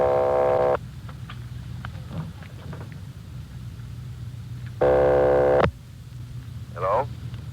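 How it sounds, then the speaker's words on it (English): A telephone rings in two distinct bursts on a long-distance call to Los Angeles in a radio drama, separated by several seconds of quiet line noise, with brief clicks and a short tone between. "They're ringing the number, Sergeant."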